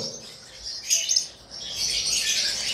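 Pied blue lovebirds chirp and tweet in bright, high bursts, one louder flurry of calls followed by a steady chatter of chirping nearby.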